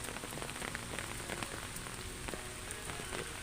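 Rain falls steadily outdoors in unsettled weather, a dense patter of scattered drops and taps continuing without pause, moderately quiet and with no voices.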